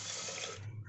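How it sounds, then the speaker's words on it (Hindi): Water pours in a steady splashing stream into a pressure cooker holding rice, close and bright, then cuts off abruptly near the end of a short burst. "और अब पानी डालेंगे,"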